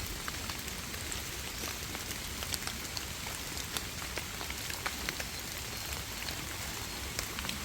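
Steady rain falls outdoors during termite mushroom foraging amid wind, a dense continuous hiss with scattered sharper drops tapping nearby surfaces, with no voices over it.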